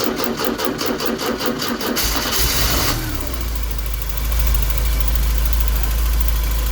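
A 1983 Porsche 944 with a fuel smell fault is cranked over, giving a loud rapid rhythmic starter whir for about two seconds before the engine catches and settles into a steady, close, rumbling idle with no talk.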